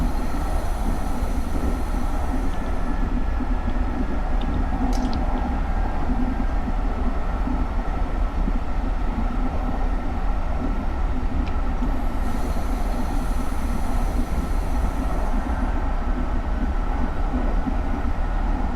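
A SEPTA GE Silverliner IV electric commuter train brakes into Bridesburg Station on the Trenton Line, its loud continuous rumble carrying high-pitched wheel and brake squeals that come and go, with light rail clicks throughout and no talking.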